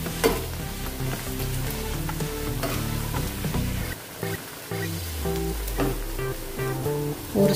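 Onion pakoras fry and get flipped in hot oil, a continuous sizzle running under steady tonal music throughout.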